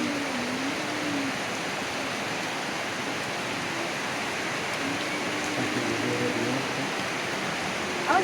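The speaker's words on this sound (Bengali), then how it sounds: "চারদিকে শুধু বৃষ্টি।" Heavy rain pouring down all around outdoors, a dense continuous hiss of falling water that stays even and steady throughout, with no voices.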